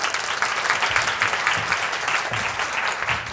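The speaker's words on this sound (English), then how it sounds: "round of applause for Sarah." An audience at a keynote talk applauds a volunteer called up on stage, a steady wash of many hands clapping at moderate distance, sustained for a few seconds with no talk over it.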